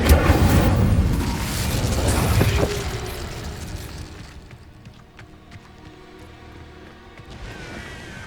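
Confringo and Incendio spell blasts in Hogwarts Legacy burst out as loud, dense booming crackle for the first few seconds, then fade into a quieter, rumbling game ambience.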